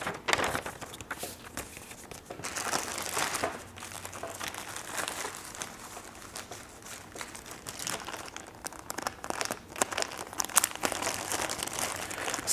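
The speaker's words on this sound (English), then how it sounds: "You can fold and place these inside the pocket of the biohazard bag when completed." Paper forms folded and slipped into the plastic pocket of a biohazard bag, giving a steady close crinkling and rustling that runs throughout.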